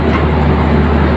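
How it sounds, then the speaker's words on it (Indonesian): Progo passenger train being shunted at a station, a loud, close, continuous rumbling drone with steady low-frequency roar and no distinct clatter. "Dan persiapan masuk langsiran kereta api Progo"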